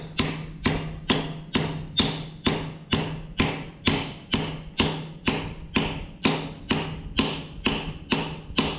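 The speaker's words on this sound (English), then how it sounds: "tap with a hammer." Steady, evenly spaced hammer taps ring out on a metal connector fitting on a Case 930 tractor, about two per second, sharp and close with short decaying rings between strikes.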